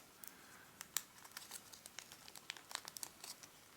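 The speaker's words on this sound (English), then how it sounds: "we're going to fold this down on itself" Soft crinkling and crisp snaps of paper being folded into an origami chick, a quiet, close string of small rustles and creases with no talking.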